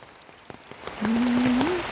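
Rain falls steadily on a forest during a mushroom hunt in Yasothon, a soft patter with scattered drop taps, joined midway by a sustained, slightly rising tone.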